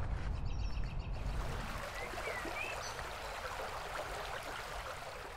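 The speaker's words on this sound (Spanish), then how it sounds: "¿Viste lo crecido que está el río?" A swollen river rushes steadily nearby, a dense broadband roar of flowing water with faint bird calls above it, heard alone with no talk.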